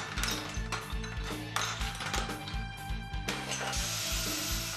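A hammer repeatedly smashes a ceramic washbasin and toilet during demolition of a 20-year-old apartment bathroom, giving loud, dense, irregular crashing and scraping impacts with rattling debris throughout.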